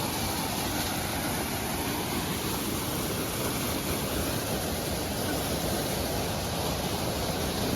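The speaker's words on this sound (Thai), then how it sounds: "เป็นน้ำตกนะครับ" Waterfall in a forest, a dense, constant roar of falling water that stays loud and unchanging throughout with no pauses or voices.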